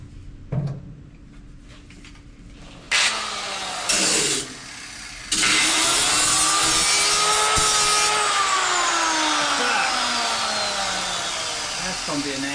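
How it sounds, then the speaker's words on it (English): An angle grinder cuts into the thin, old sheet metal of a VW floor pan, starting after a few short knocks and bursts, then running as a loud, continuous shrieking whine that holds steady to the end. "it's old metal and it's real thin, so I might can chop through it with the grinder"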